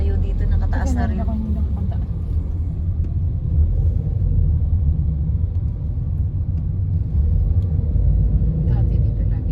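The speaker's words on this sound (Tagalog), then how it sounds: "Grabe ang traffic dito." Heavy road traffic in Bacoor keeps up a dense, low rumble of passing vehicles throughout, with people talking over it.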